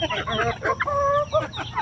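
Free-ranging backyard chickens cluck close by in quick, overlapping bursts, with a few longer drawn-out calls mixed in against a light background hum.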